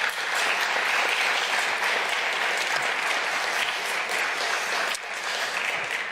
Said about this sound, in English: let's give these guys a nice round of applause.